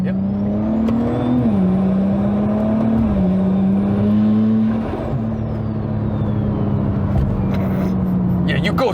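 A single-turbo N54 BMW 335i with a swapped 8HP automatic gearbox drives along, its engine droning steadily and rising in pitch between smooth shifts, with a turbo whine and people talking inside the car.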